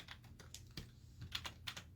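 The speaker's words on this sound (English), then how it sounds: "I'm gonna try using my keyboard less. Because, I also realized that, like, it clicks a lot." Clicky computer keyboard typing, a quick irregular run of sharp key clicks at close range, fairly quiet with no talk.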